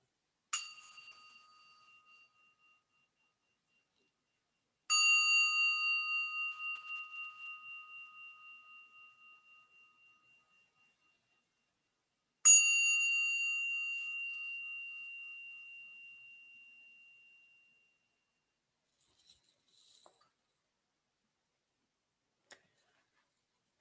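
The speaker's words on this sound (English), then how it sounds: "We'll start with the bell." A meditation bell is struck three times, several seconds apart. Each strike rings out clear and bright, then fades slowly into silence, with a few faint taps near the end.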